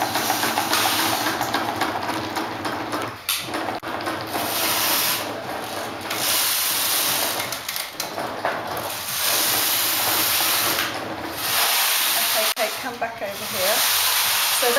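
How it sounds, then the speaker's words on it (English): A hand-cranked ball winder winds several strands of yarn together into a ball, making a steady, close whirring and rubbing drone with brief pauses and changes in pace. "So what's cool about using the ball winder is you could actually put like three ends of colour through"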